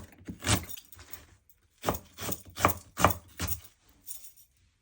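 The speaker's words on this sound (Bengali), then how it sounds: "এখন পেঁয়াজ কাটবো।" An onion is chopped with a knife on a board: a handful of irregular, close wooden thuds and knocks, loosely spaced with short pauses between them.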